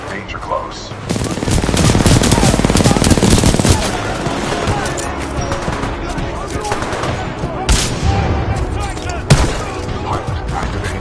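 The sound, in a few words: supporting gunfire in video game Titanfall 2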